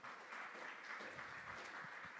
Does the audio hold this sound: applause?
yes